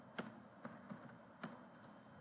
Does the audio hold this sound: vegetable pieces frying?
no